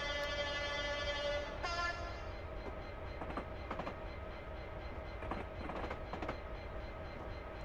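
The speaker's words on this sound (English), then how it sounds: "so I thought I better blow the whistle" A locomotive whistle in a train simulator game on the Settle to Carlisle line blows one long sustained blast over steady rolling rail noise, followed by wheels clattering over track joints.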